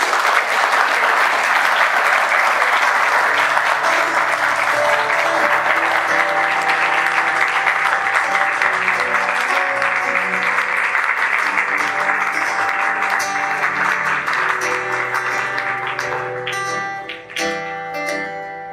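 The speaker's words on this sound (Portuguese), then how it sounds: "uma salva de palmas" Wedding guests burst into sustained applause after the kiss, loud dense clapping that holds for many seconds and thins toward the end as music begins to rise beneath it.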